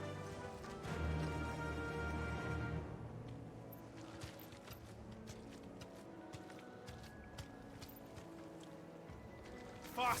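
Horse hooves in Final Fantasy 16 clatter in a quick, steady rhythm as the mount gallops across open ground, heard over low game ambience and music, fairly close and moderately loud throughout.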